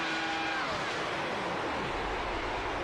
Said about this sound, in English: What you're hearing there is him putting the clutch all the way into fuel saving